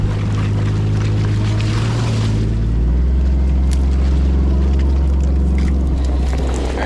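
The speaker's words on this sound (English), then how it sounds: "it's a little windy over here" Strong wind buffets a deer hunting spot in Kansas, a loud continuous roar rumbling against the microphone throughout, with no speech.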